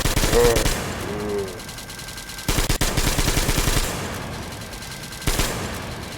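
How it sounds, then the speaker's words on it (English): Heavy machine gun fire in a video game, long rattling bursts that stop and restart several times, loud and close, with game sounds layered over the shooting. "Now I've got a machine gun."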